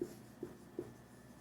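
Faint writing strokes during a chemistry lesson, three short scratchy marks spaced about half a second apart in a quiet room.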